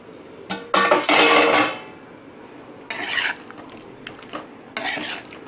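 A plate lid lifted off a cooking pan of simmering food, with a couple of brief metallic clanks and scrapes followed by softer clatter and faint sizzling in a kitchen.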